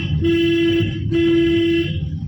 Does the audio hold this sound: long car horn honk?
yes